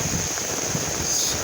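Strong wind blowing outdoors during rain, a continuous loud rushing roar buffeting the microphone with no clear breaks or voices.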